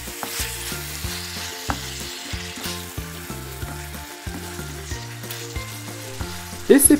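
Bitter melon, beef and black bean stir-fry sizzles in a pan as it is mixed. A soft, steady crackle sits beneath louder background music with a stepping melody.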